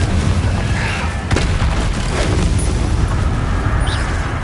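Confringo spell blasts in Hogwarts Legacy on PS5, a dense stream of booming fiery bursts layered over constant rumbling battle noise, loud and close throughout with one sharper impact near the middle.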